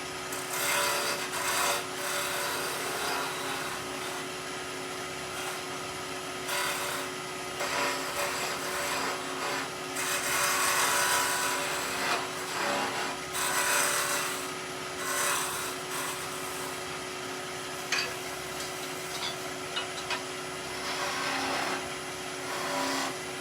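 Spindle gouge shaving a ball shape on a wood lathe while turning Christmas trees, a steady close rasping and scraping that rises and falls in long passes with the motor's hum underneath, no talking.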